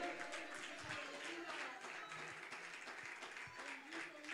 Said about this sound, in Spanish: aplauda fuerte al Rey de Reyes